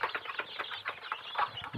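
Several desi hens with a large brood of chicks, close soft clucking and a rapid chatter of chick peeps that run on without a break.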